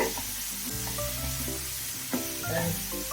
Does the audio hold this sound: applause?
no